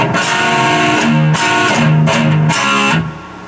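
Distorted electric guitar plays chugging palm-muted hits alternating with ringing chord stabs in a steady rhythm, loud and close, before trailing off.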